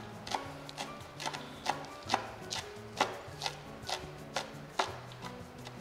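A knife finely chops the green tops of spring onion for empanada filling, about a dozen crisp, evenly spaced taps on a board, close and clear, over soft background music.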